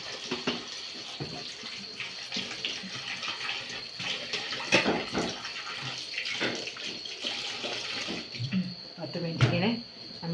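Water splashes and runs as mangoes are washed after soaking in salt and turmeric for pickling. There is irregular close sloshing and trickling with clattering handling, and a voice speaks now and then underneath.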